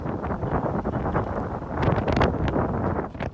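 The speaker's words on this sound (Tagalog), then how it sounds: "Walang humpay na buhos ng hula na sinabayan ng malakas na hampas ng hangin ang naranasan sa Baguio City sa kasagsagan ng Super Typhoon Pepito." Strong gusting typhoon wind during a super typhoon in Baguio City, Philippines, roaring steadily and buffeting the microphone, with surges of louder gusts throughout and no voices.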